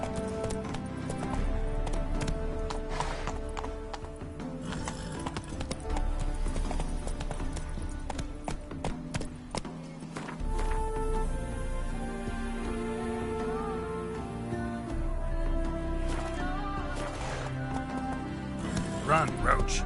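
Hoofbeats of the horse Roach galloping in The Witcher 3, a steady rapid clip-clop running through the whole stretch over a dense game music and effects bed, with a voice talking over it.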